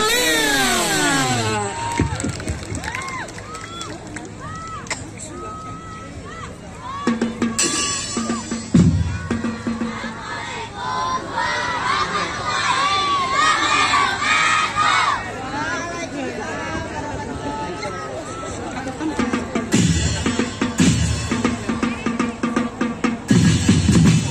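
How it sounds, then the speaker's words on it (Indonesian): A village crowd at an Eid al-Adha takbiran night in Berbah, Sleman, applauds and cheers for a performance by the Al-Ikhlas Sumberlor mosque group, a dense sustained roar of clapping, shouts and chatter with voices carrying through. "kita berikan tepuk tangan yang meriah untuk penampilan dari Masjid Al-Ikhlas Sumberlor"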